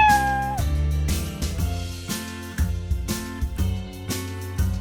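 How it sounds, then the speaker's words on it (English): A cat meows over bouncy, upbeat music, with the sustained notes carrying on steadily around it. "C is for cat."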